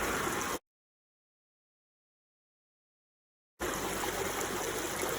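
Stream water flowing at a tributary sampling site, a steady rushing, trickling wash that cuts out to total silence for about three seconds before resuming just as loud.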